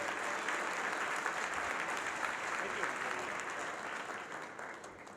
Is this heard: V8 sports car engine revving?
no